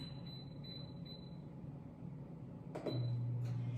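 An air fryer is set and started for chicken gyros: faint button beeps and a click come first, then a low steady fan hum starts up close and continues.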